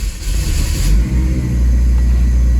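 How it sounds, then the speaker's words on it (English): A cold start on an E85-fuelled car: the engine cranks and catches, settling into a loud, close, steady low idle rumble with no talk. "It's a cold start. It's never been started today. So we're going to go ahead and fire it up"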